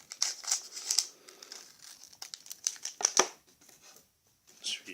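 Pokémon card booster packs are crinkled and torn open, a series of sharp close foil crackles and rips in quick irregular bursts, with a brief pause near the end.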